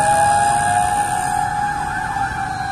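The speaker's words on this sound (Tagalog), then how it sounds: "Madami na yung dumaan na bombero." A fire truck siren wails loud and close, steady and continuous with sweeping tonal bands, as fire engines pass during a fire in Las Piñas City; no talk.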